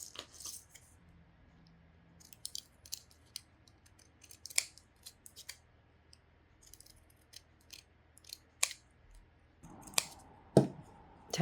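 Pinking scissors snipping paper leaves for a handmade LED rose, a series of crisp close-up cuts at an uneven pace in an otherwise quiet room, with a louder crunch of paper near the end.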